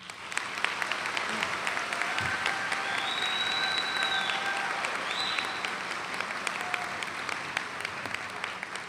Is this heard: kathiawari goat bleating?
no